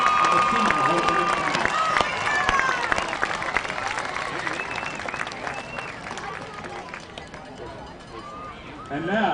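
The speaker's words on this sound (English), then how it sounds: "let's give a big round of applause to all of our 2023 fall class attendants of the senior homecoming" Crowd applause and cheering in the stands at a high school homecoming football game, loud at first and gradually fading, with voices mixed in.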